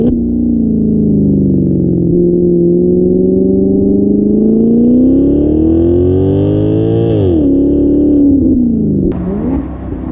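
Maserati GranCabrio V8 revving hard with the top down in sport and manual mode, a loud deep growl that rises and swells over several seconds, then drops sharply on a lift with a crackle at the end, heard alone.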